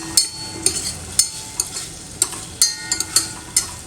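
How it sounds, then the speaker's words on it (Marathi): Prawns roast in a hot pan for a spicy Goan fish curry, a steady close sizzle broken by repeated sharp scrapes and clinks as they are stirred, with no talking. "प्रॉन्स असे मस्तपैकी हे करून घ्यायचे आहेत, भाजून घ्यायचे आहेत."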